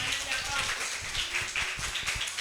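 Schoolchildren at an Islamic primary school clap their hands in a quick, steady run of sharp claps, with talking and classroom chatter mixed through the sound.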